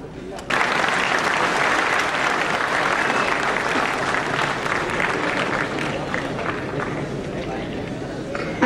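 Sustained applause from an audience at a Kanshi Ram award ceremony honouring Uttar Pradesh cricketers and activists, starting abruptly and holding steady as a dense, loud wash of clapping throughout.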